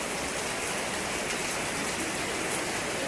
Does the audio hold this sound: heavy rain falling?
yes